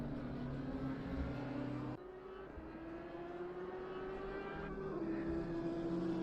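Race cars at Donington, one of them an Audi, drone steadily at close range with a sustained engine tone that shifts pitch as they hold position nose to tail.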